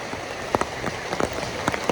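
Rain falling steadily on a surface during the dry third month in rural Thailand, a dense close hiss broken by scattered sharper drops, with no voices.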